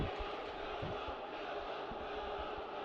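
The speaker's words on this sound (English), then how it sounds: "They're chanting Noah's name. They're loving this." A high school hockey arena crowd chants a player's name during the starting lineup introductions: a dense, distant roar of many voices with a faint rhythmic pulse, continuous throughout.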